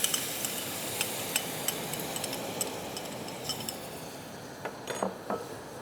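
Pecans being stirred in a skillet, light scraping and clinking of a utensil against the pan in scattered taps, fairly quiet with a soft steady background hiss.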